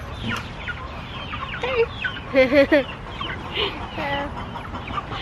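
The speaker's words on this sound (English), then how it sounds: "If you don't have chickens, this is what they do when they lay an egg." Backyard chickens cluck and cackle after laying an egg, a run of loud, close squawks in the middle over quieter clucking, and one voice briefly calls out.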